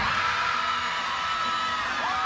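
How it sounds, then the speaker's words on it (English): Crowd of spectators at a North Carolina at California college gymnastics meet cheers and whoops after a double layout bar dismount, a steady, loud roar of voices throughout with higher yells rising near the end. "Drawing some woos from the crowd behind us"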